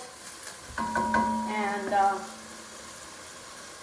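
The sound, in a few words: food sauteing in a pot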